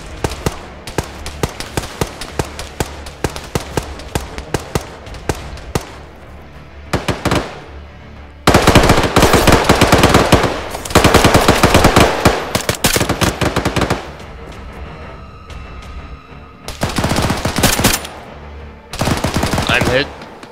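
Heavy machine gun fire in the ArmA 3 SOG game during a large battle, with loud, close, rapid bursts, some long and some clipped, broken by short pauses, with radio chatter faintly underneath.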